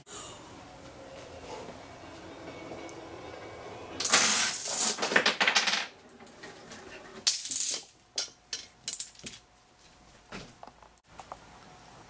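Releasing a tape measure starts a homemade Rube Goldberg machine, giving a rattling metallic whir followed by a string of short clicks, clacks and taps from parts moving close by.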